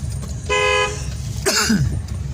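A car horn gives one steady honk of about half a second, then a second shorter blast, at a right turn in a narrow lane during a driving lesson, loud and close over low engine rumble.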